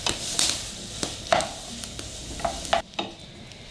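Chopped onion stirred in hot melted pork lard in a pan, with a steady sizzle and repeated scraping strokes of the spoon through the pieces, close up and without talk.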